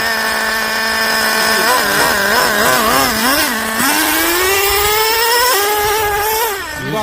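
The nitro engine of a Traxxas Slayer RC car runs close and loud with a high, buzzy whine. The revs wobble, then climb steadily, with no talking.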